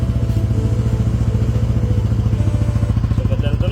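A motorcycle fitted with a stainless steel kalkal exhaust pipe idles close by, its engine beating out a rapid, even train of throaty pulses that stays loud and steady.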